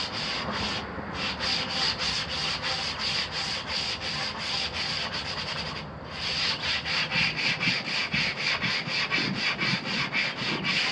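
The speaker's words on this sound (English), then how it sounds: "sand all the edges that we cut" Cut wooden edges are sanded by hand with fast, rhythmic back-and-forth rubbing strokes, close and loud, continuing steadily apart from one brief pause, with no talking.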